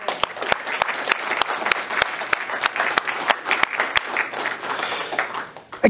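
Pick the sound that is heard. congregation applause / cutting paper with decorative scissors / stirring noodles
congregation applause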